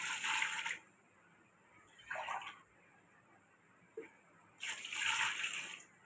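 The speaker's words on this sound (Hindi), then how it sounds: "साथ हम इसमें 2 गिलास पानी के डाल देंगे" Water is poured into a pressure cooker in two short gushing bursts with a quiet pause between, close by and moderately loud, with a faint clink in the gap.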